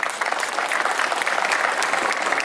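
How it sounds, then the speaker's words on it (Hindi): Audience at a memorial football match event in a sports ground breaks into steady, loud applause, a dense sustained wash of clapping with no break and no voices. "आप सभी दर्शकों के लिए एक बार शानदार जोरदार तालियां।"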